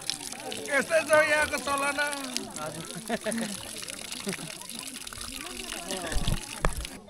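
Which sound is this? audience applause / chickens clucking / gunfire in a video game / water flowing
water flowing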